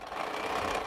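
A sewing machine runs steadily in one brief, quiet burst while stitching a quarter-inch quilting seam.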